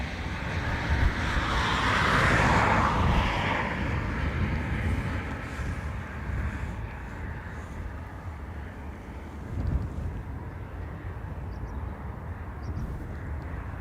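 A plane taking off from runway 28 right at Dublin Airport, a broad distant jet roar that swells in the first few seconds and slowly fades, mixed with wind buffeting the microphone.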